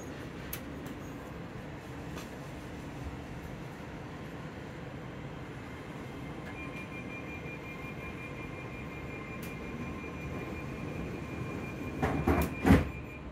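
A passenger train runs between Edinburgh Park and Haymarket toward Edinburgh Waverley, heard from inside as a steady, loud rolling rumble with faint tonal hums, building to a brief clatter and squeal of wheels near the end.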